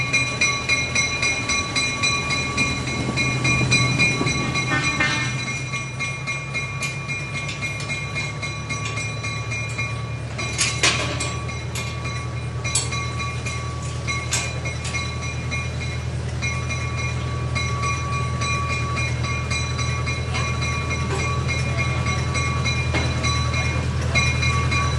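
Miniature railroad locomotive 3502 running around its train on the Billy Jones Wildcat Railroad: a steady low rumble of the engine and rolling cars with scattered metallic clanks and squeaks, heard from close by.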